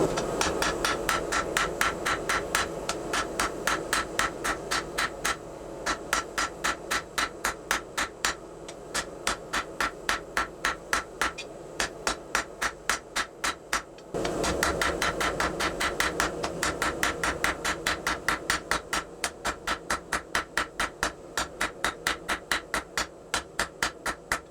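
Rounding hammer striking a glowing 5160 coil-spring steel knife blade on an anvil, sharp metallic rings in a fast steady rhythm of dozens of blows, with brief pauses between bursts.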